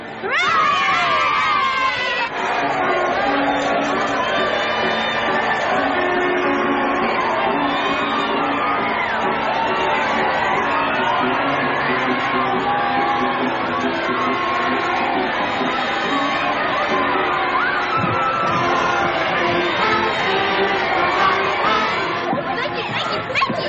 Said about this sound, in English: Do you hear the cheering?